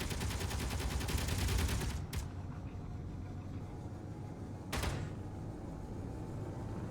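Automated turrets firing in Underground Alone, a rapid burst of shots at first, then two brief sharp volleys separated by quieter rumbling, fairly faint overall.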